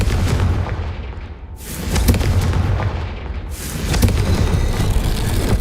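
Confringo blasting curse explosions in the video game Hogwarts Legacy, two or three loud booming bursts in close succession, each a broad crack that decays into rumble, with a dense low-end roar between them.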